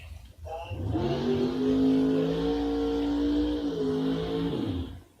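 Drag racing dragster and door car at Tri-State Raceway, loud engines droning with steady rising harmonics for several seconds, close and dominant, with commentary voice faintly under it.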